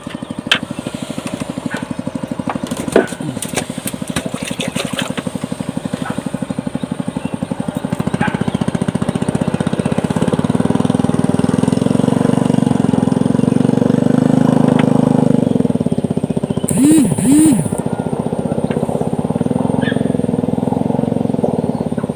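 A motorcycle engine runs close by beside a fishing spot at a lake, a steady low rumble that swells and holds louder through the middle before easing, with a couple of brief voices in the background.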